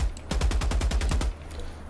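A heavy machine gun in the Helldivers 2 video game fires one loud, rapid burst of about ten close shots lasting around a second, followed by quiet.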